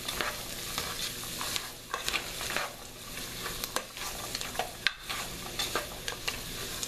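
Carrots sauté in olive oil while a utensil stirs them through the pan, a close steady sizzle broken by frequent scraping and rustling strokes.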